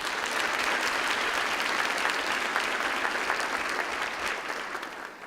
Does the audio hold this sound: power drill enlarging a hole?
no